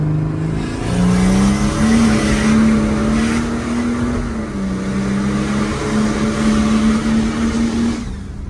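Turbo diesel Mercedes OM603 car accelerating up to speed: a loud, close engine roar climbs in pitch through several gear changes, with brief dips between pulls, heard alone.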